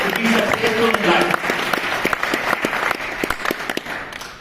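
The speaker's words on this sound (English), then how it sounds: "So applause, because you guys realize what it takes to be successful in life" Audience applause at a business summit, a dense wash of many hands clapping fairly close and loud, with some voices and faint tones early on, then tapering slightly toward the end.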